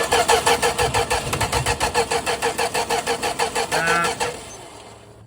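A 1965 Plymouth Valiant's slant six engine cranking over: a steady, rapid rhythmic chugging of the starter for about four seconds without catching, then fading away into quiet.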